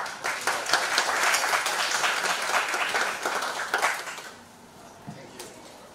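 An audience at an international workshop on Balinese agriculture claps to welcome a professor to the podium, a dense moderately distant round of applause that thins out and fades near the end.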